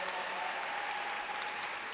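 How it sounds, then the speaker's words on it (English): Audience at a school district convocation applauds a newly introduced health science teacher, steady clapping from a crowd throughout, fairly subdued in level. "you guys can give her a bigger round of applause than that now"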